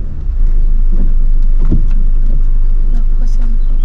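A car engine revs up and holds a loud, steady drone during a hill start in a driving lesson, with wind rumble over the microphone and some voices nearby.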